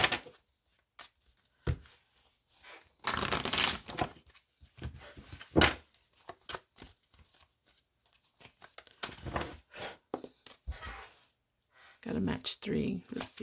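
Tarot cards are shuffled on a desk in brief papery riffles and taps, with one longer burst, while someone talks through much of it.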